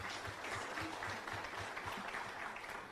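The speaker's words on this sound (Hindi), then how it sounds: "सो अशोक लिए जोरदार ताली में." Audience at a talk on universal laws of success breaking into strong, sustained applause, a dense even roar of clapping from a large crowd.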